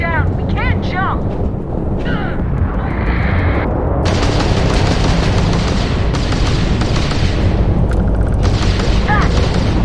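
Ship weapons fire in Starfield space combat amid a dense, loud roar of booms and blasts, with shrill electronic warbles early on and voices over the din.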